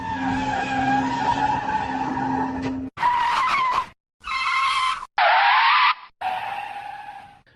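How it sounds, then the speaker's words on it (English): A car's tires screech in loud, sustained squeals, cutting off abruptly between several bursts of skidding and revving as the vehicle peels away in a dramatized getaway scene. "they get in the car and drive off"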